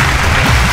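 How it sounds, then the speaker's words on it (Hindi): Audience clapping at a Bhojpuri singing competition stage show, a dense steady wash of applause filling the short moment, loud and close with no voices over it. "एगो भैया जोरदार ताली सबके लिए।"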